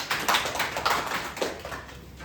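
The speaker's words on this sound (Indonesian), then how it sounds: "Oke, beri tepuk tangan ke diri kita sendiri" Group of people in a classroom clapping for themselves, a short scattered burst of close hand claps with uneven rhythm that fades toward the end.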